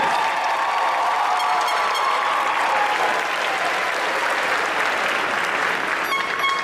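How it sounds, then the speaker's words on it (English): A large crowd at the Clara Barton High School class of 2016 graduation ceremony at Brooklyn College claps in a full, continuous round of applause, steady and loud from start to finish. "How about a round of applause?"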